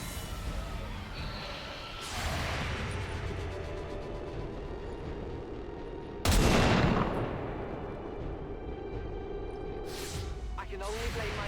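Gunfire in XCOM 2: War of the Chosen, with two or three sharp, loud shot bursts standing out over a busy game-sound bed, the middle blast the heaviest, while a voice talks in between.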